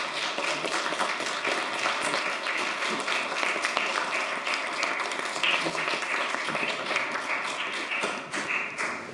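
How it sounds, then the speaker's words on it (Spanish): Audience applause following a photojournalist's talk, a steady dense patter of many hands clapping that holds evenly for the whole stretch without voices. "Le damos un aplauso."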